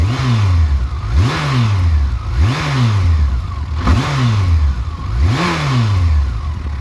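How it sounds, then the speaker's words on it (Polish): A 2002 Yamaha FJR 1300 motorcycle, freshly serviced, is revved close up about five times in a steady rhythm, each rise falling back toward idle. "silnik pracuje jak nowy."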